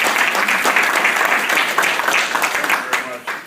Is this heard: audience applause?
yes